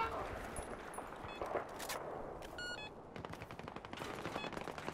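Rapid bursts of automatic gunfire from a newly used weapon during a Battlefield 4 night operation, close and loud, in repeated short volleys with a few brief pauses.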